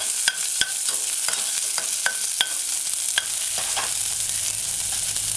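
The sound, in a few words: chopped onions sautéing in a pan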